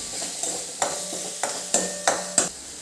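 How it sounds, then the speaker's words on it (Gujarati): A spice mixture with turmeric and salt being stirred, with several sharp spoon scrapes and taps at irregular intervals over a faint background hiss, close and fairly quiet, with no talking. "હવે આ બધું એક વખત આપણે સરસ મિક્સ કરી લેવાનું"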